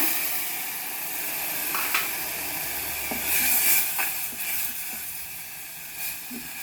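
Soaked tamarind water poured into a hot pan of fried garlic for a bassaru kalu palya sizzles with a steady hiss, punctuated by a few sharper crackles and spits, close and alone without speech.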